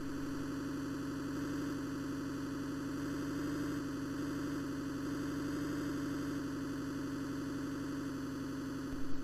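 Car engine from an Amiga driving game set on a mountain road called Mulholland Drive, a steady synthetic buzzing drone held at high revs, loud and continuous with no talk.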